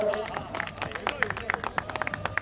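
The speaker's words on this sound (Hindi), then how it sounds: "तालियां बजा दीजिए इनके लिए एक बार जरा, जो परफॉर्म कर रहे हैं।" Audience clapping for performers of a folk song stage show, scattered and moderate in volume, with crowd chatter and a voice mixed underneath.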